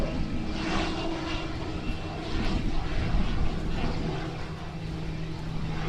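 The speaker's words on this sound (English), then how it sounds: "slow flight coming past. And it is very slow for the size of the aircraft." A Diamond Dart 750 single-engine propeller aircraft flies slowly past at an airshow at Farnborough, its engine and propeller drone loud and steady throughout with a slight swell in the middle.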